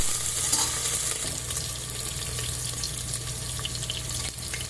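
Cumin and mustard seeds fry in hot oil for barley upma, making a close, steady sizzle with faint crackles and no voices.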